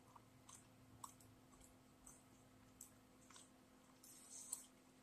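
Soft, wet chewing of a sour grape Haribo Sour Kicks gummy candy, close up and quiet, with scattered small clicks and squishes in an irregular rhythm and no talking.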